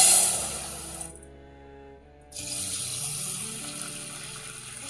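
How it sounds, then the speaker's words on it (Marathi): Moong dal lentils rinsed in a bowl of water, a steady close sloshing and swirling that thins to a quieter stretch midway, then returns in fuller splashy washing. "ही आपण पाण्याने आधी स्वच्छ धुवून घेऊया"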